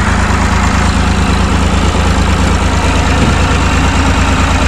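A diesel Massey Ferguson 135 tractor with power steering and a 6-speed idles steadily up close, its low chugging knock loud and constant throughout with no talk.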